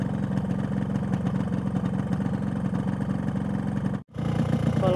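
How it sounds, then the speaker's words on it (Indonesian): A two-stroke motorcycle engine running on Yamalube 2T oil idles warm with a steady buzzing, popping putter, loud and close, broken by a brief dropout near the end. "ini adalah sampel atau angka kebisingannya saat mesinnya udah panas"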